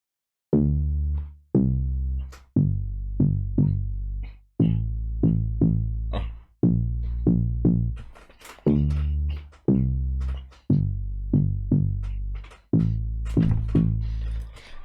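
A deep synth bass from the Fruity DX10 plays a bouncy afro-house pattern of short and sustained notes, loud and upfront, with percussive clicks and ticks layered on top.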